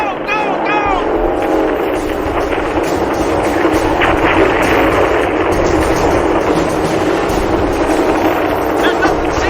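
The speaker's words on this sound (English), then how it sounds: "The jets are bombing the object. We're moving out of the area. All the gunnery positions have opened fire." Jets bomb a target while gunnery positions open fire in a TV drama scene: dense, continuous roaring barrage of explosions, gunfire and aircraft noise, loud and unbroken, with shouted voices mixed into the din.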